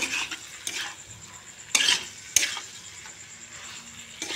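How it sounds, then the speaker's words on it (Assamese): Marinated chicken sizzles in a hot frying pan while a spoon stirs it, bringing steady frying hiss broken by a few sharp scrapes and clinks against the pan, close and without speech. "এতিয়া এই চিকেনখিনি মই এটা ঢালি দিলোঁ। চিকেনখিনি মই ধুনীয়াকৈ মিলাই ল'ম।"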